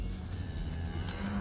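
Young black cattle low in an open field at sunrise, a loud, continuous deep moo carrying for over a second with a rumble of outdoor noise beneath it.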